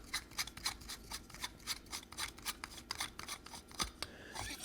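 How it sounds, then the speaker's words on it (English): The grip of a scrap-built lightsaber is unscrewed, a series of close, quick metallic scraping and clicking ratchets in an irregular rhythm, fairly faint. "You want to unscrew your grip."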